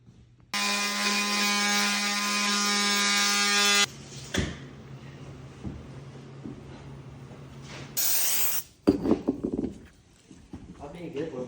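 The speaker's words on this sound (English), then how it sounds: "I'm gonna sand them all down, clean them up." Sanding the foam backing on the bottoms of 100-year-old church pews gives a steady, loud harmonic power-sander whine for several seconds, then scraping and handling noise with a short hiss burst and knocks.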